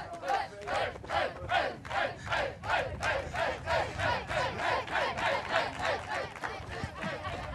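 A crowd at a minute-to-win-it game event in a Dutch village cheers and chants in a steady, rhythmic pulse that goes on throughout, loud and close.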